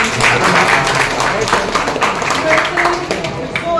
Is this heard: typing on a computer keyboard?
no